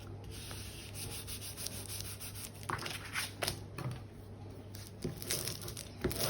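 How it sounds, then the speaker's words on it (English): Fabric being burnished down onto a journal cover: soft, close rubbing and scraping strokes in an irregular rhythm over a faint steady hum. "just burnish that down. Make sure it's nicely adhered."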